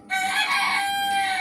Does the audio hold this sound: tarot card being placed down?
no